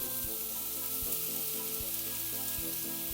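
Vegetables with tomatoes and cabbage sizzle steadily in a hot pan, a constant crackling fry with faint rhythmic stirring underneath, no talking.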